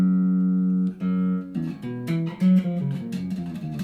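A Modulus Flea bass guitar played alone, starting with a sustained low note and moving into a loud run of plucked, rhythmic bass notes with bright attacks.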